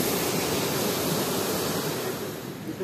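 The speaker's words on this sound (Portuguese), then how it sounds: "Já a cachoeira mesmo, da caída é enorme" A tall waterfall at a rural farm property in Altinho pours down in a steady, loud, broadband roar of falling water that fills the whole stretch without a break, close by and with no voices.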